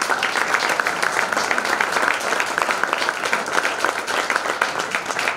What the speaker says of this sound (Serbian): Veliki aplauz za njega.